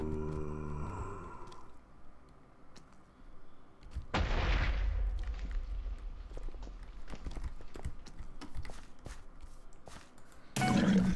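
Pistol shots in a Minecraft zombie minigame: one loud, sustained burst of gunfire, then scattered sharp cracks and clicks over a low background, with a final loud burst at the end.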